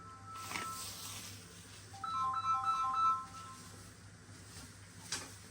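A mobile phone ringtone plays a brief, faint melody in a home kitchen as a customer calls, over low background hum.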